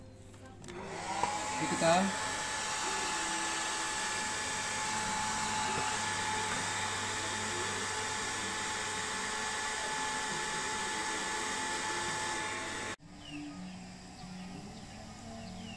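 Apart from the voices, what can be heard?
hair dryer blowing air into CO2 gas filter prototype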